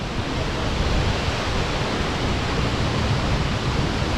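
Waterfall at Belye Mosty in Karelia, a steady, loud broadband roar of falling water that fills the whole scene without pause, close by and with no voices.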